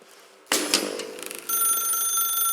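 A telephone rings in The Stanley Parable video game: a sharp metallic bell ring bursts in after a quiet moment, then a second ring follows and sustains as a bright, steady trill.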